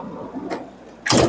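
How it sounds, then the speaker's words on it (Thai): A door on a Toyota Commuter 3.0 automatic van, giving a short soft slide or latch sound partway through and then a loud, sharp slam near the end, heard close by with no talking. "นี่เสียงประตูนะครับ ปกติไม่ได้มี"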